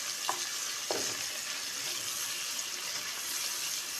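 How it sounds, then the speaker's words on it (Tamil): Egg biryani ingredients frying in a pan give a soft, steady sizzle, broken early by two short scraping stirs. The sound stays quiet throughout with no voices. "நல்லா ஃப்ரை பண்ணிக்கோங்க. ஸோ நல்லா ஃப்ரை ஆகட்டும்."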